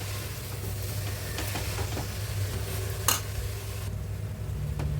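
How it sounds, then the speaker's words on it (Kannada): Vegetables cooking with salt in a pan for a vegetarian biryani, giving a steady close sizzle and stirring throughout, with a brief sharper scrape of the spoon near the middle. "ಇವಾಗ ತರಕಾರಿಗೆ ಸ್ವಲ್ಪ ಉಪ್ಪು ಹಾಕಿ ಬೇಯಿಸ್ತಾ ಇದ್ದೀನಿ."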